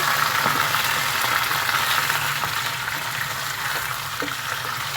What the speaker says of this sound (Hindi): और अब हम बीफ को भी थोड़ा सा इसमें फ्राई करेंगे ऑनियन के साथ।